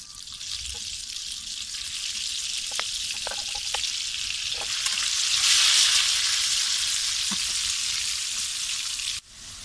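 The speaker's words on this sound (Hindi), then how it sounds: "अब मैं इनको फ्राई करती हूँ।" Potatoes frying in hot oil and butter, a dense, continuous hiss with a few small pops and taps, growing slightly louder midway before cutting off abruptly near the end.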